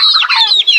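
Farm chickens kept with native pigs and turkeys give a short burst of close, bright clucking, several quick overlapping calls in under a second.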